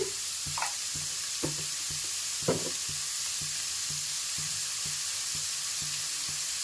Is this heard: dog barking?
no